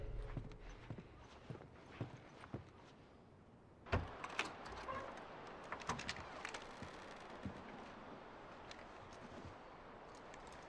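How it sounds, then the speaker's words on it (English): Horses' hooves clip-clop in the video game The Last of Us, quiet irregular hoofbeats and shuffling at a moderate distance, with a sharper knock partway through and no talk. "Let's get back to the horses."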